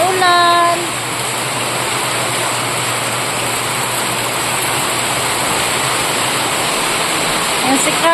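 Heavy rain pours down steadily as a dense, loud broadband wash, with a brief tonal beep-like sound near the start and no talk.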